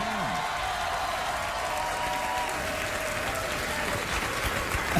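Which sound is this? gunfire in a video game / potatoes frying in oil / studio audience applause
studio audience applause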